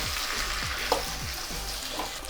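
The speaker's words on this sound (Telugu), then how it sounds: "అది వేసిన సోయా సాస్ వేసిన, చిల్లీ సాస్ వేసుకొని ఒకసారి కలుపుకుందాం" Chilli chicken frying in a pan with soy sauce and chilli sauce, being stirred: a constant close sizzle with repeated scraping stir strokes at a steady rhythm and no talking.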